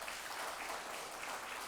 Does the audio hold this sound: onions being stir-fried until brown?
no